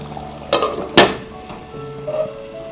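Two metallic clanks half a second apart as a lid is set down onto a pot, followed by a faint low hum.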